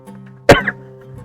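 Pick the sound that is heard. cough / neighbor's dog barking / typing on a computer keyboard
cough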